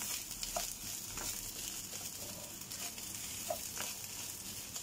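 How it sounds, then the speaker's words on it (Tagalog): Continuous sizzling and crackling of an egg frying in a hot pan, with occasional small pops, steady and close. "Itlog na prito."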